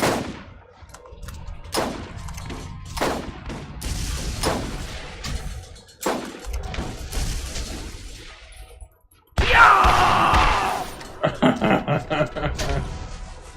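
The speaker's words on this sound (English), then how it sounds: "someone's shooting electricity at us" Bursts of gunfire and a sudden crackling electric blast from an enemy weapon in Borderlands ring out amid excited talk, the electric hit loud and sustained near the end followed by choppy bursts.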